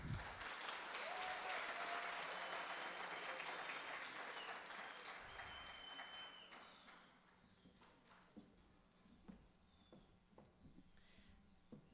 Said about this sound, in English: Let's gonna receive warm applause.